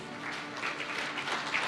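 Steady audience applause at an Independence Day event honoring the Indian Army chief, a dense wash of clapping that holds evenly throughout without any voices.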